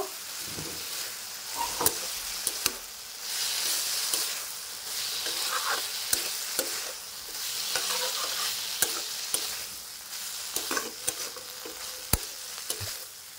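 Spiced curry of soybean chunks, cauliflower and potato is stirred in a frying pan, the sizzle swelling and easing while a spoon knocks and scrapes the pan at irregular intervals, close up and without talk.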